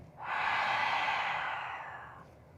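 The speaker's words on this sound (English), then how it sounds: "Inhale, roll up. Exhale through your mouth." A long, breathy exhale through the mouth during a core exercise, close and steady, swelling quickly and then fading out over about two seconds.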